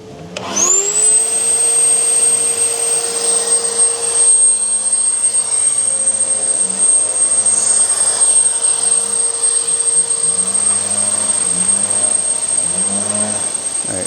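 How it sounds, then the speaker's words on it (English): Pressurized air is pumped into a Toyota Tacoma's exhaust system, a loud steady blower-like whine and roar that holds throughout with a continuous high tone and a low wavering hum underneath. "you're sending pressurized air into the system"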